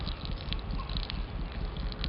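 Water being poured out of a camping pot from a Sea to Summit and Light My Fire camping set, a close, steady gushing and splashing stream lasting the whole moment, fairly quiet.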